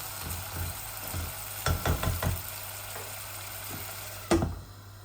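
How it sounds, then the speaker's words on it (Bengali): Small fish cooking in a pan with a little water and tomato, stirred once: a low steady sizzle with a cluster of scraping, clattering stirs midway and a sharp knock near the end. "আমি অল্প একটু জল দিয়া মাছগুলো আমি একবার লাড়িমু দিয়া হারলে"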